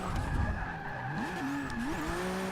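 Ford GT LM drifting around Spa in Forza 6, a steady engine drone with wavering tire squeal and skidding that rises and bends in pitch throughout, loud and continuous with no talk.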